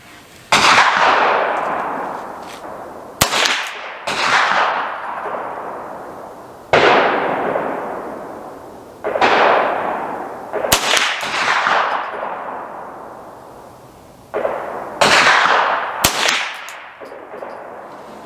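Six sharp .22 LR rifle shots from a Ruger 10/22 firing CCI Stinger ammunition crack out a few seconds apart, each loud report followed by a brief ringing decay outdoors.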